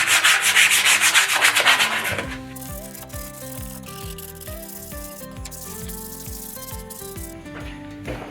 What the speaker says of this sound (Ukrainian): Після того, як фарба висохла, пошліфуємо трішки наждачкою